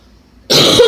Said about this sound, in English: Trying not to cough a lung up or puke